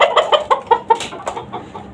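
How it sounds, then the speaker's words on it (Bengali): A breeder rooster on a rooftop chicken farm in Dhaka, Bangladesh, gives a close, rapid series of about a dozen sharp clucks, loud at first and tapering off, with no talking. "এই মোরগটা হচ্ছে যে আমার খামারের বাচ্চা"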